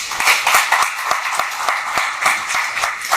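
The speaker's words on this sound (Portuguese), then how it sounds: "eu queria uma salva de palmas para a JPD" An audience at a mining-community forum gives steady applause for the JPD, many hands clapping in a continuous, even burst with no talk.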